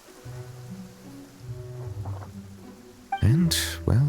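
Steady rain patters throughout a quiet scene, overlaid by soft tonal voice-like sounds, with a louder sharp burst near the end.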